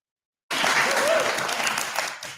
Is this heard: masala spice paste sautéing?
no